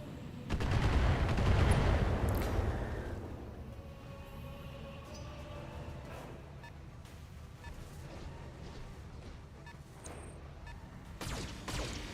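Missile barrage in BattleTech, a swelling rumble of rapid launches and impacts early on, then a fading roar with scattered later hits, without speech.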